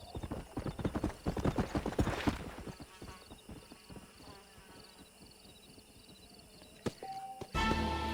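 A stallion in the Red Dead Redemption video game, with close, rhythmic clip-clop of hooves for a few seconds, then quieter ambience and a brief whinny-like burst near the end.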